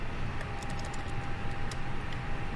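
Computer keyboard typing, a quick irregular cluster of light key clicks at close range over a steady background hum, with no talking.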